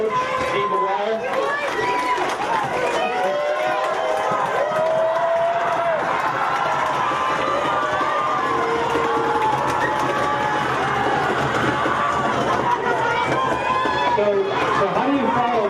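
A large crowd at a Super Bowl pep rally cheers and shouts continuously, loud and dense throughout, with excited voices and whoops layered over one another.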